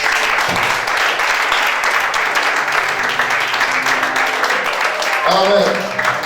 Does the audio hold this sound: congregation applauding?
yes